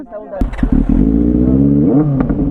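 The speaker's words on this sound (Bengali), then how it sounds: "ভাই সুপার বাইকের সাউন্ডটা কিন্তু আলাদা" An inline-four superbike engine revs up loudly and close, a sustained throaty drone with rising pitch, with brief voices over the start.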